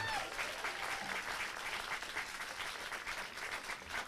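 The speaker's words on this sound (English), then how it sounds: "Give them all a round of applause, ladies and gentlemen" A crowd at a candlelight vigil in Peekskill for Florida victims gives a round of applause, a steady, moderately loud clapping that carries on evenly with some voices faintly under it.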